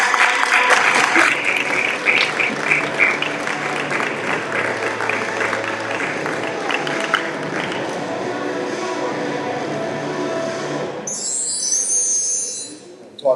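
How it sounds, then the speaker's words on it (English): A conference audience claps for a keynote speaker at a parent summit, with dense, steady applause for about eleven seconds before it fades out, followed by a short high tone. "Let's give him a nice round of applause and start us off."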